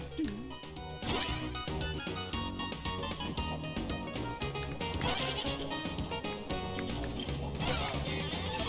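Goats bleat in the snowy mountains stage of the Duck Tales video game, short nasal calls cutting through loud, busy chiptune music that plays continuously.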